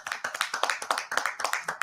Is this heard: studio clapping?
yes